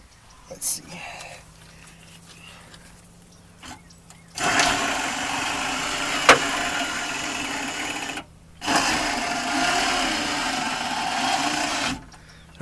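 The power window motor of a 1974 Corvette Stingray, fitted with a new relay, whirs steadily in two runs of about four seconds each, loud and close, with brief clicks and a voice before and between.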